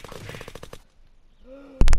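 Gunfire in the video game Unturned during a PvP raid: a rapid burst of shots at the start, a brief quiet stretch, then a loud close volley of several sharp bangs at the end.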